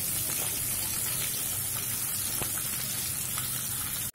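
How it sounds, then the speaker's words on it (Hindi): Sliced onions frying in hot oil over a high flame for a chili mushroom dish, with a continuous dense sizzle and crackle heard close up, plus a few faint pops and stirs. No one is talking. "अब हम इसमें प्याज डाल देंगे, फ्लेम हाई रखेंगे, इसको थोड़ी देर फ्राई करेंगे"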